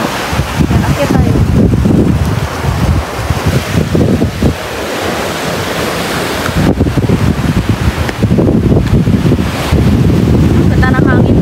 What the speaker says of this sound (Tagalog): Ganda ng hangin dito oh.